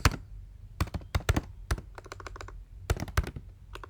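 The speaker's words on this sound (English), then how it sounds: "I'll just type it out for you." Fingers type on a computer keyboard while coding, a close, steady patter of crisp key clicks in short irregular bursts with brief pauses, no voice present.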